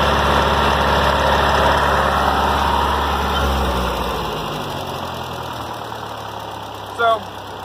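A Ford 8N tractor engine idles with a loud, steady low chugging throb that settles slightly lower partway through, and a brief knock or clank comes near the end.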